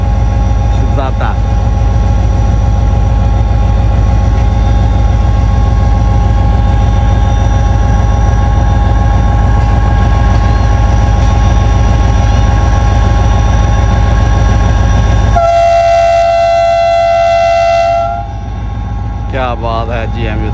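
A passenger train hauled by a GMU 30 diesel locomotive rumbles past loudly and steadily, with a sustained horn-like tone throughout and a higher sharp horn blast near the end as the rumble eases; a voice talks over it.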